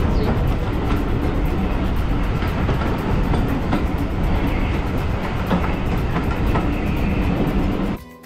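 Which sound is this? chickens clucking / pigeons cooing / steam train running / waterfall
steam train running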